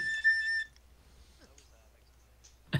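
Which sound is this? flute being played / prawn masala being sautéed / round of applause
flute being played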